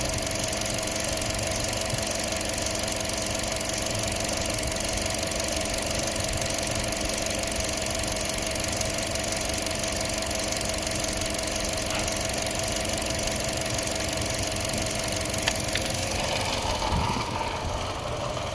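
A 2014 Chevrolet Cruze 1.4L engine idles with a misfire, giving a steady, fairly quiet rumble with a faint uneven knock running through it, and no voices.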